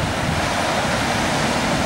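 Waves of the Tasman Sea off Tasmania, Australia, wash in as a steady, fairly loud surf rush mixed with wind buffeting the microphone, with no voices over it.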